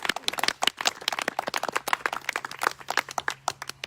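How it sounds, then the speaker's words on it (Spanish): A church congregation applauding, a dense burst of rapid handclaps continuing for several seconds at moderate volume. "Dale fuerte el aplauso a Dios."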